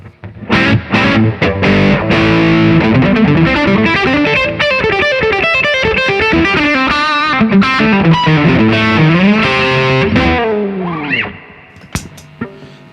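Electric guitar through a Suhr Riot distortion pedal plays a thick, sustained riff with bending notes, loud and upfront, then fades into a few sparse picked sounds.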